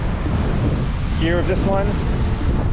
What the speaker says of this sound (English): But yeah, it's a really windy day.